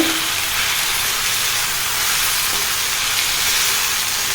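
Mint leaves sauté in a hot pan for pudina chutney, giving a dense, steady loud sizzle and hiss with no breaks throughout.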